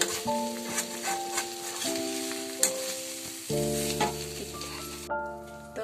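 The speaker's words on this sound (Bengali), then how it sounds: "বন্ধুরা দেখো একদম কষাইছি খুব সুন্দর করে কষাইছি" Mutton curry sautéing in a wok until deep red, a continuous sizzle broken by occasional scraping stirs and clanks, with sustained musical tones running underneath and no one speaking.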